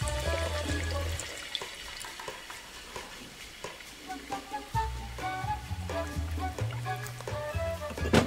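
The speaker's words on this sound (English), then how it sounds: "and then we will put a little bit water" About 100 ml of water splashes into a hot pan of chicken adobo and sizzles, with scraping and stirring sounds from cookware nearby.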